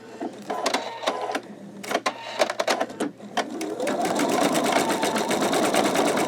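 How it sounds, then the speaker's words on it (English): An embroidery machine stitches green thread onto a T-shirt, first a few stop-start bursts of clicking, then a steady fast mechanical rattle with a rising whir as the stitching runs continuously and loud. "I have the last green color threaded onto the machine. So I'm going to go ahead and start the stitching"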